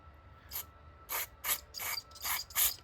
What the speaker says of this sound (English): I'm going to spray some brake clean in there, get all the crap out.